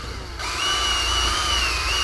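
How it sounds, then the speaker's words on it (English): A power drill bores through an aircraft engine cowl on a Jabiru engine installation, starting abruptly and holding a loud, steady whine close by. "just drill right through there, put a silver cleco in it"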